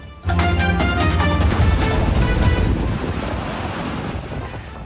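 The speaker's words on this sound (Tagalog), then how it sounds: "Dahil sa malalakas na alon, ulan at hanging dala ng Super Typhoon Nando sa Calayan, Cagayan at iba pang lugar sa Hilagang Luzon" Strong surf and gusting wind from Super Typhoon Nando batter the coast at Calayan, Cagayan, in Northern Luzon: a loud, roaring rush of crashing waves with heavy wind buffeting the microphone, easing slightly toward the end.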